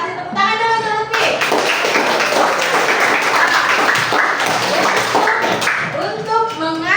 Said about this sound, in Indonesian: Tepuk tangan dulu untuk Lutfi.